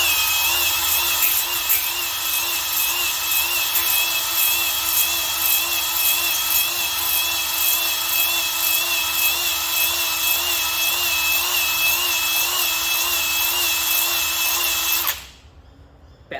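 Drill-driven hone working inside a cylinder bore of an RB30 engine block, a continuous high whirring whine held steadily and loud for about fifteen seconds before cutting off abruptly.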